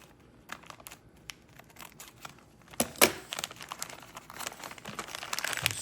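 Crinkling and snipping as scissors cut a small corner off a plastic bag, quiet rustles at first, then a louder crunch and continued crackling handling up close.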